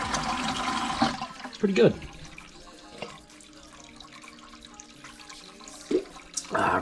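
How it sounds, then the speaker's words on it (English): Water trickling out of the hoses of a DIY ice machine filter, a faint steady flow with a few louder splashes and knocks, and a brief spoken remark partway through. "you see there's water coming out both hoses"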